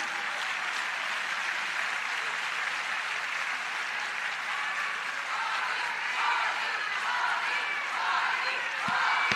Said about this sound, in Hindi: एक बार जोरदार तालियां हम अपनी इस संगठन के लिए